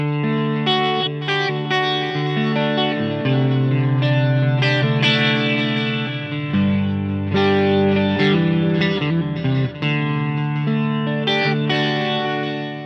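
Effects-laden guitar with chorus, echo and light distortion plays a song intro at a slow tempo. Chords ring and change steadily throughout, with no talking.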